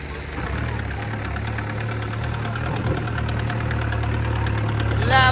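Farmtrac tractor engine laboring under heavy load during a pulling contest against two Mahindra tractors, a steady low droning hum throughout with faint knocking, a brief uneven rise near the end.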